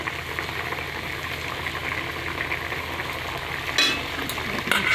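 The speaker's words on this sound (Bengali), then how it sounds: "ঝোলটা ফুটে যাক" Silver carp fish curry broth with boiled potatoes bubbling and simmering in a pot, a continuous close hiss with a brief clatter near the end and no talking.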